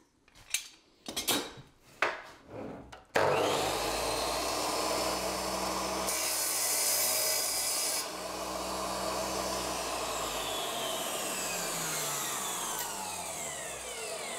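A DeWalt D2400 wet tile saw cuts tile: a few sharp clatters and knocks first, then the motor starts into a steady, close, high whine with grinding as the blade bites, continuing to the end.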